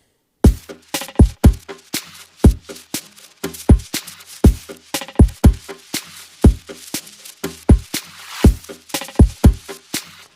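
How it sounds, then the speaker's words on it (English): A drum pattern plays alone: punchy kicks and sharp snare-like hits in a steady groove, with busy percussive accents between the main beats. "we only have the drums, so there are 8 tracks of drums"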